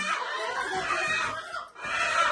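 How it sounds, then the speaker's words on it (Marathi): A loose rooster clucks and squawks close by in short agitated bursts, with a brief pause in the middle, over a hissy background. "तुझ्यासाठी कोंबडा आणलेलं, ते कोंबडं सुटलं"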